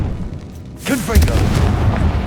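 The Confringo blasting curse in Hogwarts Legacy bursts into a loud, booming explosion after a short rising whoosh, with a rumbling tail that carries on to the end.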